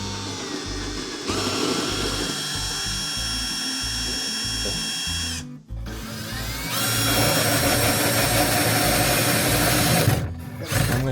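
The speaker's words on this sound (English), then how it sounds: "just drill through it. I'm using 7/8 to fit the 1/2 inch pipe." A power drill bores a 7/8 inch hole through a wall for a 1/2 inch propane pipe in a tiny house kitchen, whirring loudly in two long runs with a brief stop in between and a short pause near the end.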